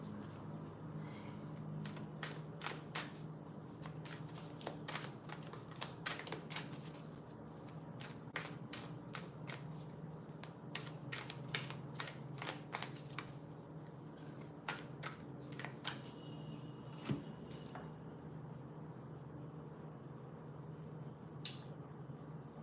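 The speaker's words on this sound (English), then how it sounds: "I'm using oracle cards, which I never do. Like rarely. These are really big oracle cards too, so they kind of hurt my hands." Large oracle cards are shuffled by hand in a quiet room, a long run of crisp, irregular flicks and riffling snaps with a soft background hum and no talk.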